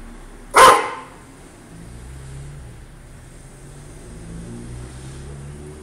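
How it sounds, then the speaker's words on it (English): A dog gives a single sharp, loud bark close by, followed by quiet room tone with faint low rumble. "The dog."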